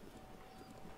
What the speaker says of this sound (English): I have obtained my horse from the stable, the twin stable